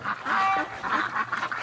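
Ducks quacking and honking on a winter morning beside running water, several loud overlapping calls from close by over a steady wash of water.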